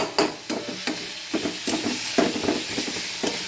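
Onion and ginger paste frying in a pan for a potol chingri dish, a steady close sizzle broken by repeated scraping stir strokes, with no talk.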